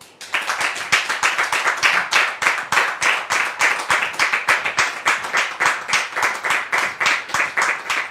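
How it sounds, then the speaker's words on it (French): An audience claps in steady rhythmic unison to welcome a guest onto a stage, loud and close, with sharp even claps at about three per second. "je voudrais vous demander, bien entendu, très cher public, de recevoir ici Séraphin sous vos applaudissements."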